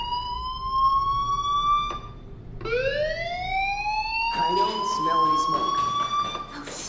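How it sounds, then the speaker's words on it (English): A fire alarm wailing inside the video game Life is Strange, a rising electronic siren tone that repeats in long swooping cycles, steady and prominent with a voice talking over it near the end. "do you hear that fire alarm?"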